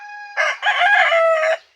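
Chickens kept for sale, a rooster crowing loudly and close, with a steady tone at first, then a drawn-out crow with clucking mixed in, lasting a little over a second before fading.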